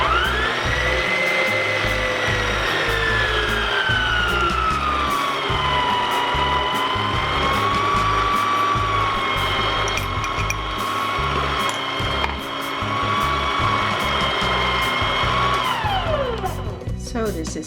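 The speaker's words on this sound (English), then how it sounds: "Let the mixer do the rest." An electric mixer whirs steadily through cupcake batter, loud and close, its motor pitch wavering slightly and winding down near the end.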